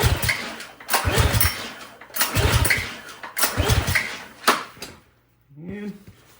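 A Subaru EA190V pressure washer engine is pulled over repeatedly for a compression test, with four or five loud rhythmic cranking bursts, each ending in a clack, then a short pause and a faint voice.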